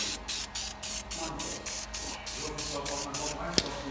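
Aerosol spray can applying gold engine paint to brake calipers from about a foot and a half away, a steady hiss in pulsing bursts with short gaps, under constant background noise.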